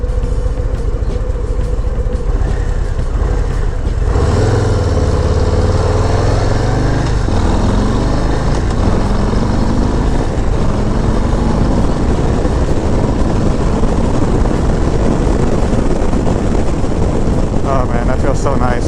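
Harley-Davidson Low Rider ST motorcycle cruising on a road, its engine a loud, steady low rumble with wind noise throughout and a slight pitch shift as speed changes.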